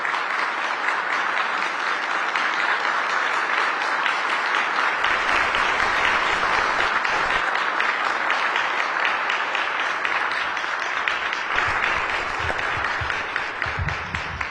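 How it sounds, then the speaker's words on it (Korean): A standing audience applauds steadily as the president enters a 2023 Ministry of Government Legislation briefing, dense clapping holding at full strength for about fourteen seconds. "모두 자리에서 일어나 큰 박수로 맞이해 주시기 바랍니다."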